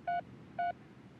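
Two short, identical phone dialing tones beep in even succession from a mobile phone in the video game 428: Shibuya Scramble, clean and alone.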